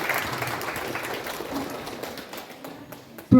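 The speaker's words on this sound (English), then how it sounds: "Let us all give a big round of applause." Applause from a seminar audience at a university fills the opening and thins out gradually, with a sharp knock at the end.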